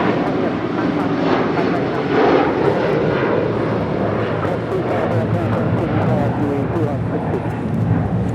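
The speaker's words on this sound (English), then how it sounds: "This is United Airlines Flight 8131 departing to Honolulu on a 757-300" A United Airlines Boeing 757-300 departing Los Angeles International Airport for Honolulu sends out a loud, close, sustained engine roar, with people talking over it.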